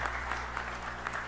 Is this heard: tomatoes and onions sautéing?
no